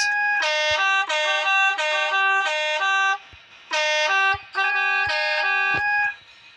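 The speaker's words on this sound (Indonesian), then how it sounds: "Kita kasih klakson dulu menunjukkan bahwa kereta akan lanjut ke stasiun berikutnya lagi" A loud, multi-tone horn from a British Rail Class 37 locomotive sounds in a series of long blasts with short gaps, then a couple more extended blasts, prominent and close.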